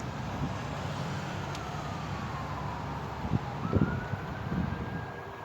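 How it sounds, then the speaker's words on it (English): A faint emergency siren wails in the distance outdoors, its tone slowly falling and then rising again under steady wind noise and a few muffled bumps close to the phone microphone. "As soon as I said that, sirens went off."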